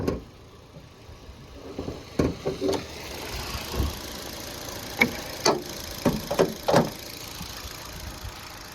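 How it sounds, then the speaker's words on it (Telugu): A 2017 Ford Figo Aspire Titanium idles with the bonnet open, a steady low engine hum close by, punctuated by several sharp clicks and knocks. "ఇప్పుడైతే ఇంజన్ అయితే ఆన్లో ఉంది, మీరు చూసుకోవచ్చు. ఇంజన్ సౌండ్ అయితే వినొచ్చు"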